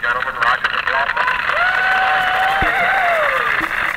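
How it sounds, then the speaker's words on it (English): Crowd applause and cheering at a 1950s Frontier Town show, a dense, steady wash of clapping and voices, loud and continuous, with a tone sliding through and a voice talking over it. "Listen to the crowd."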